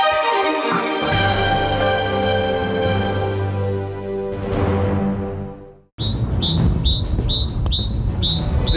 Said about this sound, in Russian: В Дебальцево вернулись птицы.